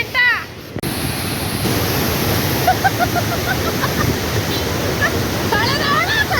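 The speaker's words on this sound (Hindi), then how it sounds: "यहाँ पर हम लोग हैं वाटरफॉल के पास, सब खड़े हुए हैं" A small waterfall in the rain at Munnar pours with a steady, broad rushing roar throughout, close and loud, with faint voices and a few chirps in the background.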